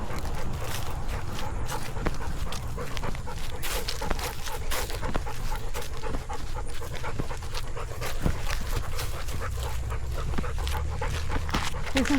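A working line German Shepherd pants steadily and rapidly up close throughout, with faint footsteps and an occasional small whimper on a walk.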